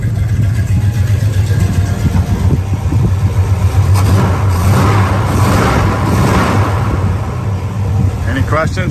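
A car engine idles loudly with a deep, throaty exhaust rumble, steady and close, with a slight rise in revs midway.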